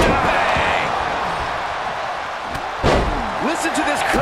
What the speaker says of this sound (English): He went right into that turnbuckle.